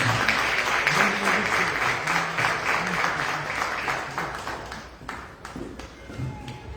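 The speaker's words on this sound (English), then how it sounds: "Another round of applause for" An outdoor diaspora sports day gathering in Boston breaks into a round of crowd applause, brisk clapping that gradually fades to scattered claps with a few voices.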